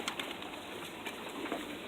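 Homing pigeons returning after release, heard as a steady, fairly faint outdoor wash with soft cooing and fluttering from birds nearby.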